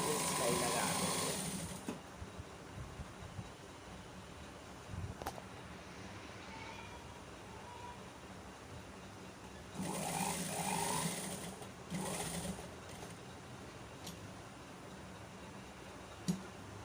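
A sewing machine stitches the slit and hem of a garment in two short, whirring bursts, one at the start and one midway, separated by quieter stretches of room noise.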